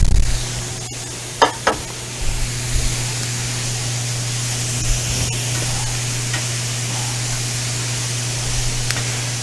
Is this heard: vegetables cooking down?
yes